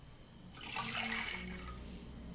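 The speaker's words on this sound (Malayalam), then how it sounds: "വെള്ളം നമുക്ക് ഒഴിച്ചു കൊടുക്കാം" Two cups of water poured into a saucepan for an Arabian tulumba sweet, a steady splashing rush that swells after a brief pause and runs on moderately close to the end.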